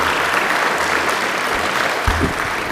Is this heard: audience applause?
yes